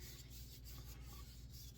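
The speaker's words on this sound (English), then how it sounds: "Rub it on that hammer handle." A steady, faint, dry rasping as fixing wax is rubbed back and forth on a small handmade wooden hammer handle, continuous and unbroken throughout.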